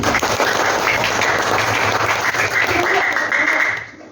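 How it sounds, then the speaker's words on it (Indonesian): Students in a classroom give a burst of applause for student groups, loud steady clapping from many hands nearby that fades out in the last half second. "jangan lupa kasih tepuk tangan dulu untuk kelompok 1 dan kelompok 2"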